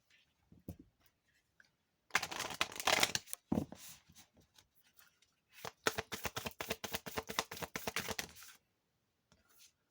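A deck of Moonology oracle cards is shuffled nearby in two bursts of quick riffling clicks and flutters, separated by a short pause and otherwise quiet.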